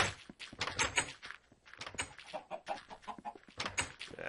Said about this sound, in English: I throw them and get more and more chickens